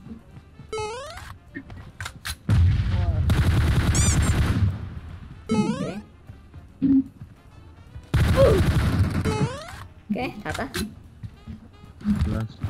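Bursts of rapid gunfire and single shots crack through the clip in the video game PUBG Mobile, with a voice talking in between the volleys.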